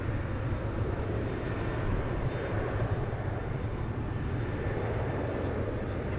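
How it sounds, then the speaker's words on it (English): A Fiji Airways airliner taxis along taxiway Golf at Sydney Airport toward the international terminal, its engines giving a steady, moderately loud broadband rumble that holds even and unbroken throughout. "There's Fiji Airways just making her way down taxiway Golf"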